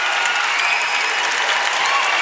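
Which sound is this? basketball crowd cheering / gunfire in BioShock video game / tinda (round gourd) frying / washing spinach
basketball crowd cheering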